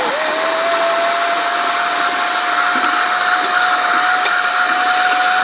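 A blender grinds salsa with broth in a steady, loud, high-pitched motor whir that holds an unbroken pitch for over five seconds, with no voices.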